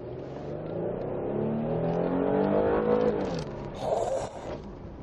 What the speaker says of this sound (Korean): 이제 이 차량 출력 테스트 한번 해볼 건데 한번 밟아볼게요